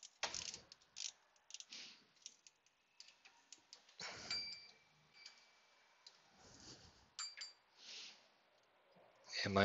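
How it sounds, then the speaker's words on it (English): A 3/8 drive inch-pound torque wrench clicks and ticks in short ratcheting bursts with pauses between, faint and close, alongside soft metallic clinks. "even though it's an inch-pound torque wrench, it's still a 3/8 drive"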